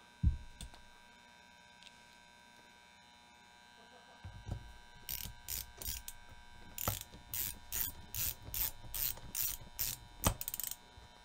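Screws being tightened into a computer case with a driver, giving a quick series of close ratcheting clicks in short rhythmic bursts over a faint hum, after a few isolated knocks.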